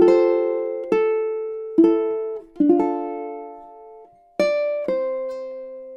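Ukulele picking out measures 11 and 12 of a song: six clear plucked notes, each ringing out and fading before the next, played alone in steady time with no voice.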